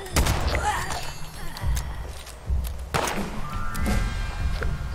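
Gunfire in the game Fallout 76, a handful of separate sharp shots and thuds spread over a few seconds, fairly close, mixed with game ambience.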